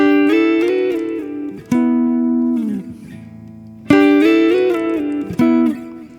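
A short guitar riff from a song repeats twice, with clean plucked notes and ringing chords sustaining between phrases, loud and close with no voices.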